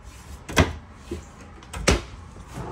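Two distinct thumps of cabinet doors or drawers shutting inside the kitchen of a 2022 Cedar Creek 371FL front living RV, with softer handling noises between them, close by and without talk.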